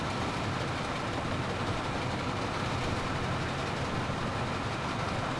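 Train rolling through open countryside in the Soviet-era city-building game Workers & Resources: Soviet Republic, a steady, continuous rumble of wheels and engine with no breaks, moderately loud and alone.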